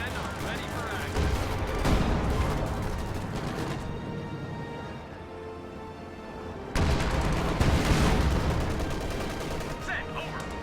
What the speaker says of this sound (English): Sherman, taking fire.